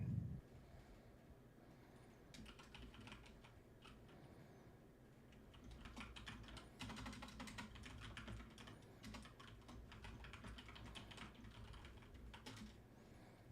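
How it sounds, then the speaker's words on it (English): Steady keyboard typing throughout, dense irregular clicks with busier bursts in the middle, fairly close and moderately quiet, no talk. "I was typing"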